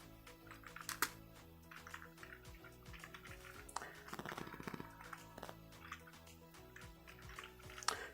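Keys clatter in quick irregular bursts on a computer keyboard while entering an Excel formula, close and fairly quiet over a faint musical bed.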